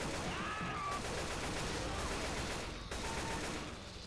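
Sustained gunfire in Left 4 Dead 2 during a zombie fight, a steady dense roar of shots with game noise layered over it, no talk.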